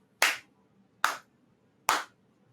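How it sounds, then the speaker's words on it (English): Three slow, deliberate hand claps spaced about a second apart, sharp and close, with quiet room tone between them and no voices. "Slow clap."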